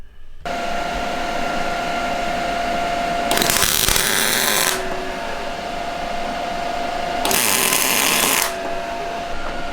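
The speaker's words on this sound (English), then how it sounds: "I'm gonna run a couple welds here. Tack weld there and there." Two bursts of tack welding on a bracket for a Jeep TJ lift kit, each a loud crackling hiss lasting about a second and a half over a steady background hum.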